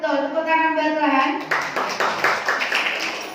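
A congregation claps during a church sermon, with a sustained voice or tone at the start giving way to a series of rhythmic, fairly close claps.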